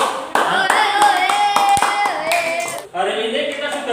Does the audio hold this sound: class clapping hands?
yes